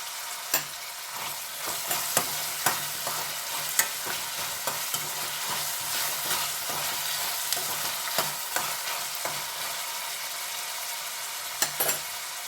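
Green chilies and curry leaves fry in a pan for chana dal curry, a steady bright sizzle with frequent stirring clicks and scrapes throughout, close and continuous with no talking.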